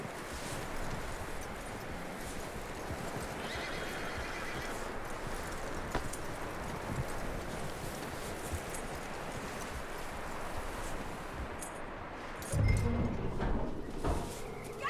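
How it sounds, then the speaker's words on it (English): Horse neighing and hooves clip-clopping in the Red Dead Redemption 2 video game, a steady layer of game ambience running throughout with a louder thump near the end. "That looks like a decent horse."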